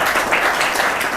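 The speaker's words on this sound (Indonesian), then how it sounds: "Tepuk tangan dong untuk saudara." Brief burst of steady clapping from an audience at a university Ramadan event, a dense, moderately loud patter with no talk over it.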